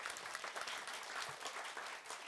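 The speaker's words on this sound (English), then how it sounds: "a loud round of applause to all the teachers, to all the support staff members" Steady applause for teachers and support staff at a school event, a dense, even crowd clapping that fills the space without a break and without speech.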